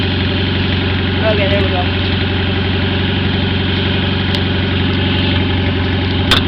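A straight-piped lawn mower engine idles loudly and steadily throughout, a dense low rumble with no pauses, while a person speaks briefly over it.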